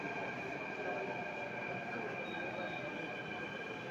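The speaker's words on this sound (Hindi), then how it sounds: "अब हमारी मेट्रो हमारे नज़दीक आ रही" A Delhi Metro train arrives at a station platform, a steady loud rumble and hiss with faint wheel squeal and rail noise, with crowd murmur in the background.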